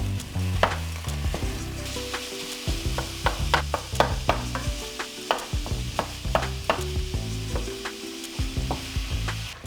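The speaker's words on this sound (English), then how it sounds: "we are going to get started by browning our hamburger." Hamburger meat browning in a pan, a steady sizzle with repeated scraping and stirring strokes of a utensil, close and moderately loud, no talking.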